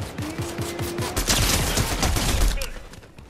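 Rapid bursts of automatic gunfire in the Fortnite video game, a fast rhythmic volley of loud shots that builds into dense continuous firing, with players talking over it.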